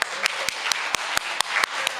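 Evenly spaced sharp claps, about four per second, ring out in a steady rhythm over a soft room hiss during a young adults' Sunday worship service at a church.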